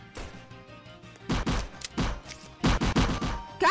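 Gunfire in the Roblox game Bunker zombie outbreak: loud bursts of shots in several separate clusters, each a rapid string of sharp reports with short gaps between them, and no talking.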